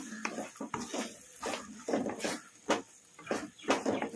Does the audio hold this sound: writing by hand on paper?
no